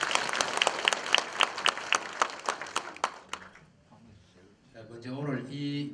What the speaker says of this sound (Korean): 여러분 큰 박수 다시 한번 주십니다.